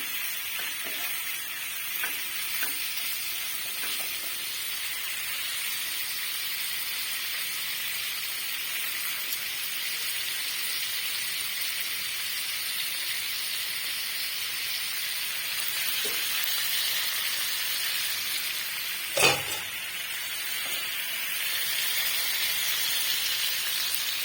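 Paneer frying lightly in a pan, a constant bright sizzle with occasional crackles and faint stirring scrapes, one sharper pop near the end, with no talking over it.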